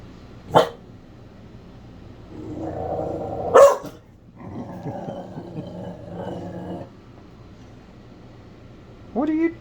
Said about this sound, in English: She's seen herself in the reflection of the stove, and she's barking at herself.